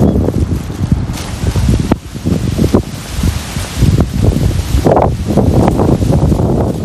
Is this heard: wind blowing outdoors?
yes